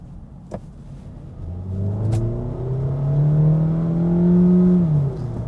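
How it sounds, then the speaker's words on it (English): A Kia Niro plug-in hybrid's engine roars and climbs steadily in pitch as the car accelerates at full throttle, a continuous droning rev rising over several seconds before easing off. "We have a lot of engine noise, but the car is not so powerful."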